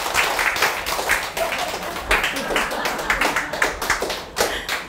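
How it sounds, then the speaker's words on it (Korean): A crowd at a presentation event claps warmly to welcome the next speaker, loud and close with individual hand claps distinct in an uneven, lively rhythm. "힘찬 박수 환영해 주세요."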